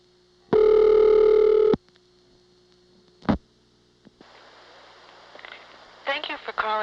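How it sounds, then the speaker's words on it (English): A steady, loud telephone dial tone from a Siemens motor switch exchange in Ocala-Silver Springs, Florida, 1982, holds for about a second, followed by sharp clicks and then a recorded voice announcement. "the dial tone could go on for over a minute, and then you could still dial a call"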